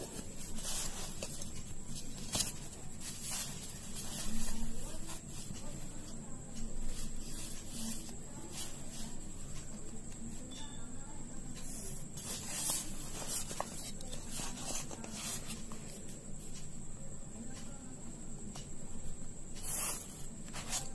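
A pen writes labels for heart parts on paper, a soft scratching rub close up, in short strokes with pauses over a faint steady hum.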